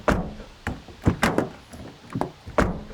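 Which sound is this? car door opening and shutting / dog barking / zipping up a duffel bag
car door opening and shutting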